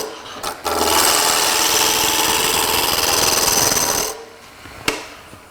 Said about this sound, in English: We'll do a bit of a shearing cut to get rid of some of those rough bits there.